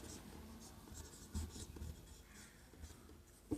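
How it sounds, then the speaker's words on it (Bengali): A pen scratches faintly across paper while math formulas for a rectangular prism are written out during a lesson, with soft strokes and a couple of taps. "দাঁড়াও এটা আমি পাশাপাশি লিখি"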